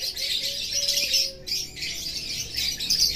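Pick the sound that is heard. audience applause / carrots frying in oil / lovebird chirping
lovebird chirping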